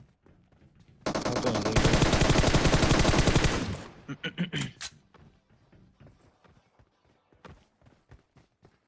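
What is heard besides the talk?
gunfire in PUBG Mobile video game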